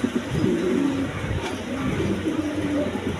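Pigeons bred for sale coo steadily and close by, in low throaty rolling calls that repeat through the whole stretch with a few brief bursts of scuffling.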